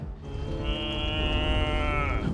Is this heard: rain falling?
no